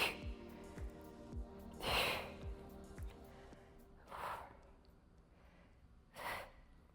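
Sharp, close breaths in and out during a single leg bridge in a no-equipment bodyweight workout, three or four separate gasping exhales spaced a couple of seconds apart over a faint background hum.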